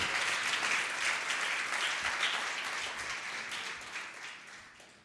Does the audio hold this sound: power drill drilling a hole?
no